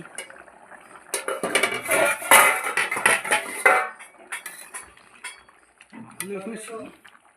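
A pot and utensils clatter while boiled potatoes are checked for a potato curry. A busy burst of metallic clinks and scraping comes over a few seconds, then quieter handling, with a brief voice near the end.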